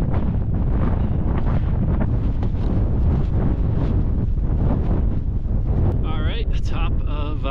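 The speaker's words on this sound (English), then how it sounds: "A little windy, not terrible." Heavy wind on the summit of Torreys Peak, Colorado, buffets the microphone in a constant loud roar, with a few high whistling tones near the end.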